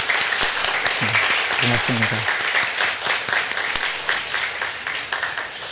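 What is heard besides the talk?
congregation applause welcoming the pastor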